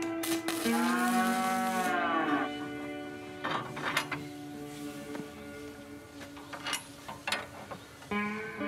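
Cows moo on a farm, one long, loud, drawn-out call first, then quieter lowing and scattered knocks and clatter nearby.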